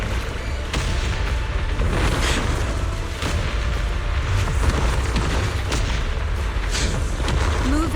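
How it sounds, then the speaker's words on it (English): Explosions in Zenless Zone Zero boom continuously in a dense, loud barrage, heavy low rumble with repeated blasts layered over one another. "Move in during the gaps between explosions."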